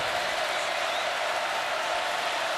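Loud, steady roar of a packed stadium crowd at a college football game, Notre Dame at Georgia, a dense wash of cheering and noise sustained without a break.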